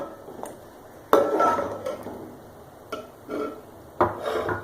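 Biryani ingredients, green chilies, lemon slices and fresh coriander, are mixed in a pot with a utensil, making several close scraping and clattering strokes in separate bursts, with quieter rubbing between them.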